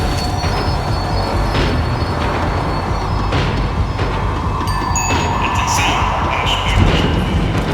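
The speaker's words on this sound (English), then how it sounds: "The tram was slowing down, and I'd only just gotten on board" Max Payne 3 tram slowing down, its wheels squealing on the rails with a steady rumbling rail roar and high screeches, loud and continuous throughout.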